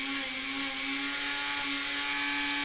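A Dremel rotary tool fitted with a rough sanding drum grinds down the edge of a handmade sword blade, a continuous high whine with brief scraping bursts as it bites the material, cutting off abruptly at the end.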